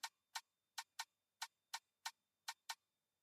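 A quiet percussion loop of sharp, bright hits in a syncopated pattern, nine strikes with crisp attacks and short decays.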